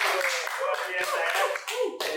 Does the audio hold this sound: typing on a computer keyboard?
no